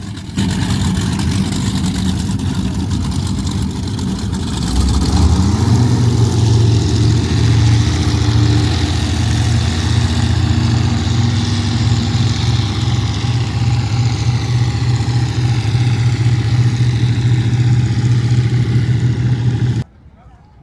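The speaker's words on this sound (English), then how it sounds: "It's a super nice jet boat just sailing off into the sunset" Loud, steady roar of a jet boat engine close by, its pitch rising as it powers up and then holding a constant drone before cutting off.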